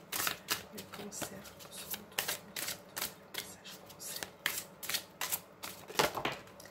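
Oracle cards are shuffled by hand in a quick, crisp series of riffling and sliding flicks, close and fairly quiet, in uneven bursts.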